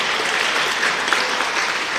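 Audience clapping for schools at a district awards function, a dense, continuous burst of applause at steady volume throughout.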